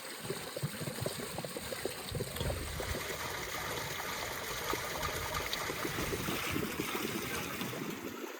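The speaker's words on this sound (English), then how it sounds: "we still need to rinse it under water to ensure it's completely spotless" Steady rush of running water over a cleaned stomach being rinsed in an Azerbaijani village kitchen, a continuous close splashing wash with no talk.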